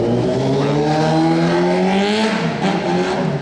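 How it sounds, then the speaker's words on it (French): A motorcycle's loud engine note rises and falls in pitch, revving steadily up close in Monaco with a harsh, buzzy drone and no talking. "la moto qui fait du bruit"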